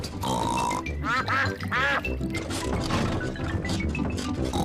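Ducks quack in a noisy burst over a rumbling engine and busy music, with nasal calls clustering near the start.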